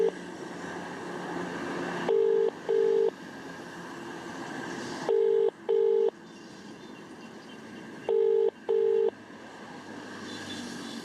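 A phone ringback tone repeats in paired beeps, three times over, with a hissy line between rings and no one answering the call.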